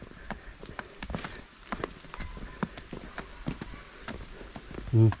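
A horse walks on hard ground, its hooves clip-clopping in an uneven, fairly close rhythm amid light outdoor background noise, ending in a brief louder thump.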